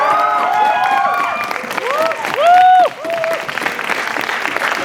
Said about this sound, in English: please, another round of applause for finalists